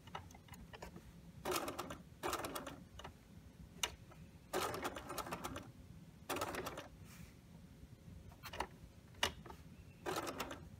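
Domestic sewing machine stitching the curve of a mock fly zipper in short bursts, pausing between runs as the fabric is turned, with faint clicks in the quiet gaps.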